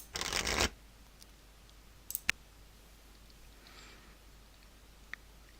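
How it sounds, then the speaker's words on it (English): Library shuffle effect from the Lackey CCG card game software during a Magic: The Gathering match: one short, loud riffling burst, followed by a few faint isolated clicks in near silence. "I didn't shuffle my library."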